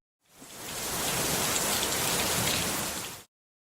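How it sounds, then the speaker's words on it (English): Rain falls on an umbrella on a city street, a dense, even hiss of drops that fades in, holds steady for about three seconds, then cuts off abruptly. "The rain was falling on the umbrella"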